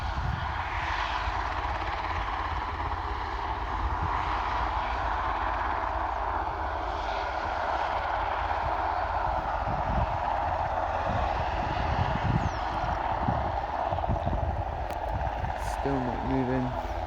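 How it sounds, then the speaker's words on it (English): A helicopter at Aberdeen airport, a steady broadband rotor and engine roar holding at a fairly constant level, with people occasionally talking faintly over it. "that helicopter's actually taken off that way"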